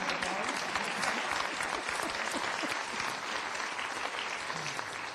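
Audience applause for 15-year award recipients at a college chancellor's opening session, a steady dense patter of many hands clapping throughout, moderately distant in a large hall.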